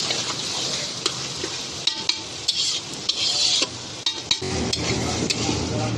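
A spoon scrapes and stirs masoor dal in a pan over a steady frying sizzle, with sharp clinks and scrapes scattered across the mix, all close and fairly loud.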